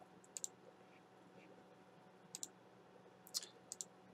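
Several quick mouse clicks, some in pairs, spaced out over a few seconds, faint and close against a quiet computer background while clicking through a Dr.Web antivirus update dialog.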